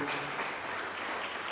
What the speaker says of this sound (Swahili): nimesema tupigie makofi mazuri